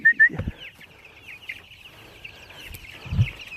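Chickens on a farm give a few short clucks and chirps, one soft call near the start and a lower cluck toward the end, with quiet rustling between.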